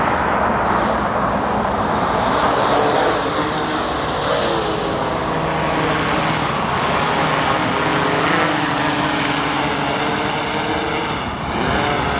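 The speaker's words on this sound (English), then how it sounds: "We're going to take off" A commercial drone lifting off and flying, its propellers giving a loud, steady, close whine with shifting tones that holds throughout.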